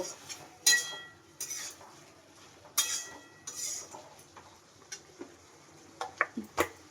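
Shrimp and vegetable-stalk curry with kasundi mustard being stirred in a pan, with scattered utensil clinks and scrapes against the metal, some sharp and near, between quieter stretches of low cooking noise.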